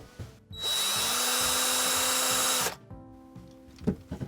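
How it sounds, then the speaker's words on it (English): A small power screwdriver whirs steadily for about two seconds, backing screws out of a plastic Happy Meal toy, followed by light plastic clicks and handling noises. "So let's get the screws out now, and of course we'll need our special tool."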